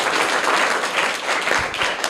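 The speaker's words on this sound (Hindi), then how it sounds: "जोरदार तालियां हो जाए इनके लिए।" A group applauds a prize winner at a school competition, brisk and fairly loud clapping that runs throughout the short moment with no talking.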